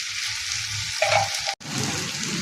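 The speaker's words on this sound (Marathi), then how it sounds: "बघू शकता आपली भेंडी फ्राय झालेली।" Okra frying in a pan gives a steady hiss of sizzling oil, close and moderately loud, broken by a brief cut partway through before the crackle resumes.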